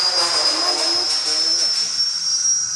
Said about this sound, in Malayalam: നമുക്ക് നേരെ തന്നെ ഹെലികോപ്റ്റർ കൂടെ സ്റ്റാർട്ട് ചെയ്തു